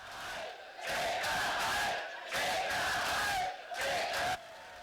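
A protest crowd rallying over an executive order on public lands such as Bears Ears National Monument shouts and cheers in loud surging bursts, each swell broken by brief gaps.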